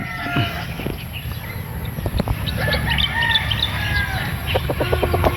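Rooster stag of a solid backyard gamefowl bloodline, crowing and clucking amid outdoor poultry noise, with other birds calling near and far and a steady yard hum underneath.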